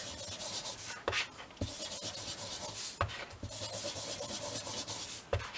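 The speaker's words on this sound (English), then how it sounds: "just around the outsides like that" An ink pad, vintage photo ink, rubbed around the edges of a handmade Christmas card to distress it, giving steady close scraping strokes broken by a few sharp taps as the card is repositioned.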